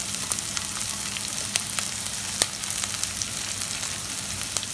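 Chopped onion and green chilli fry in hot oil, giving a continuous close crackling sizzle dotted with sharp pops, with no talk.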